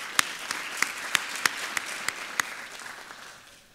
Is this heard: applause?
yes